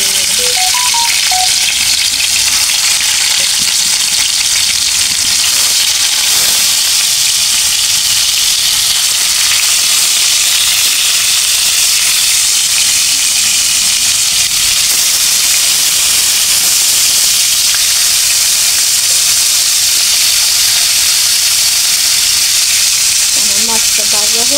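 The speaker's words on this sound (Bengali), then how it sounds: "মাছটা ভাজা হোক দিয়ে দিচ্ছি" Fish frying in hot oil in a wok, a loud, dense, unbroken sizzle and hiss running on without pause, with no talk over it.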